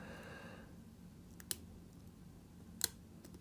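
Two faint, sharp metallic clicks of lock pins setting while picking an ABUS ZOLIT 1000 lock, about a second apart over a low steady hum, small and close.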